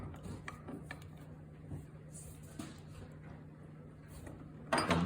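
Bolts are snugged up by hand during motor reassembly. Quiet metallic ratcheting clicks and small mechanical knocks come in scattered bursts against a low hum, with a louder rattle at the end.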